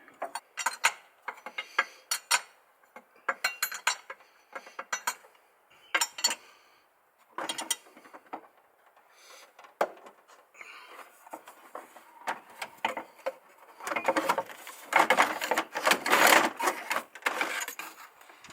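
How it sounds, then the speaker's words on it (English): Removing the viscous engine fan from a Hummer H3 produces irregular metallic clicks, ratcheting and clanks in short bursts, growing busier and louder toward the end, close by with no talk. "So now you can undo your fan very carefully."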